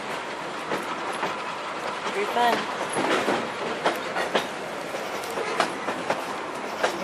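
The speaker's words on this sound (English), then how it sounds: "Riding the train in Durbin, West Virginia." Durbin Rocket tourist train in Durbin, West Virginia, clatters steadily along the rails with rhythmic clickety-clack and occasional wheel squeals, heard from aboard while a person briefly speaks.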